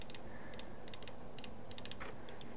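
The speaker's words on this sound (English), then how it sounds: "I'm just clicking and then double clicking to get the full ring" Computer mouse clicks and double clicks during texturing work in Maya 3D software, sharp close taps in irregular singles and quick pairs over a faint steady hum.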